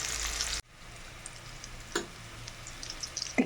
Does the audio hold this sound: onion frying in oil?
yes